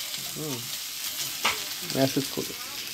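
Food for idli sambar frying in a pan and being stirred, with a constant soft sizzle under brief spatula scrapes. A voice speaks briefly in the background.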